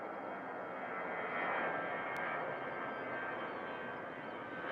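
EasyJet airliner jet engines running at Manchester Airport, a distant, fairly quiet continuous roar that swells slightly and then holds steady, with no voices.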